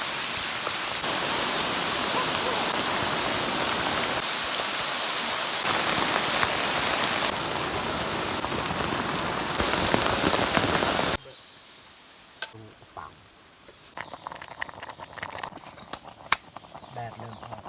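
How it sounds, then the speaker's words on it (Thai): Heavy sudden rain pours loud and steady for about eleven seconds, then cuts to a much quieter scene with scattered drips, light taps and faint background sounds. "ฝนตกทุกคนเลย"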